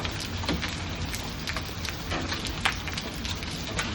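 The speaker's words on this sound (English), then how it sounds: "I haven't seen it hail like this big and maybe only once before." Golf ball sized hail pours down during a storm in Texas, making a dense, continuous clatter of hard impacts with occasional sharper hits close by. No voices are heard.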